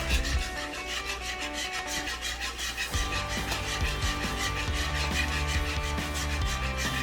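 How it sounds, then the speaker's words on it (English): A whisk stirs chicken Alfredo sauce close by, making a continuous rubbing, scraping churn with a quicker rhythmic clatter in its second half, and no one speaks. "I use a whisk to make sure all the things are incorporated in here."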